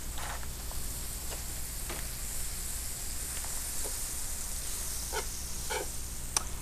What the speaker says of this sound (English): So I'm going to toast these sides of the bread.